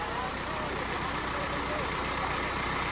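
A tractor engine labors under heavy load while hauling a trolley through soil, giving a steady, loud, close diesel drone with a dense low rumble that barely changes.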